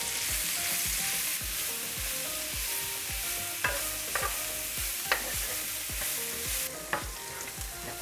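Mushrooms fry in a pan on the highest heat, giving a steady loud sizzle with repeated stirring scrapes and clacks of a utensil throughout, no voices.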